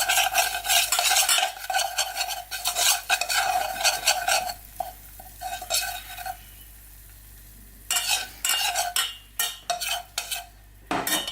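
Melted butter mixture stirred in a pan off the heat, with steady close scraping and clinking of a utensil against the pan in bursts, a short pause, then more stirring.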